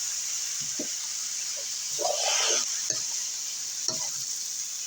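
Frog and holy basil are stir-fried in a pan, giving a steady sizzle under several sharp scrapes and tosses of a spatula, one longer hissing burst midway, close by with no talking.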